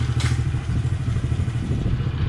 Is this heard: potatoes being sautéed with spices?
no